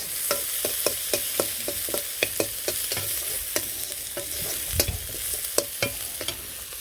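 Onions frying in hot oil with dried chillies and a bay leaf in a Bangladeshi village kitchen, a constant sizzle broken by regular scraping stir strokes, close and clear with no voices.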